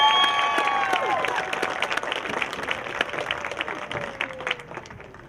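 Applause for graduates at a Class of 2020 graduation ceremony: steady crowd clapping throughout, fairly loud, with a few whistles and tonal sounds riding over it, the clapping thinning slightly toward the end.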